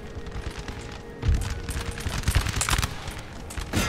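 Musket and cannon battle gunfire in the video game Napoleon Total War, a dense fusillade of crackling shots with deeper booms rolling through, continuous and loud with bursts of intensity.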